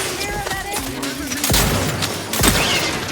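Shotgun blasts in Outer Worlds 2: several heavy booming shots spaced about a second apart, loud and punchy, with game sounds in between.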